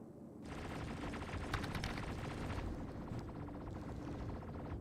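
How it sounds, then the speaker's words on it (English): Rapid weapon fire and rumbling explosions in the space combat game Star Citizen, a dense continuous barrage of crackling bursts over a deep roar, loud and sustained throughout. "I think a ship exploded and rammed into me."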